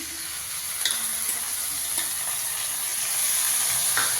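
Tomatoes going into a pan of frying karamani (black-eyed peas) give a soft, steady sizzling hiss with occasional light stirring taps, fairly faint and unbroken throughout.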